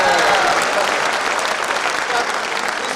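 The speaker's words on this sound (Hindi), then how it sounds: "इसको तो बहुत जोरदार तालियां होनी चाहिए।" Audience applause at a mushaira poetry gathering in Muscat, a dense, steady clapping from a crowd that holds at full strength for the whole stretch.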